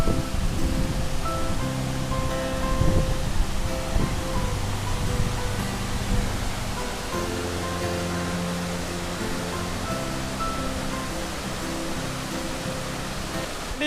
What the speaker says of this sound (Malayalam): ഈ പുറയിൽ കാണുന്നതാണ് ഉറുമ്പിക്കര വെള്ളച്ചാട്ടം.